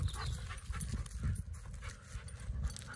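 A six-month-old dog pants rapidly and close, with quick rhythmic breaths and some shuffling movement, continuous over a few seconds with no talking.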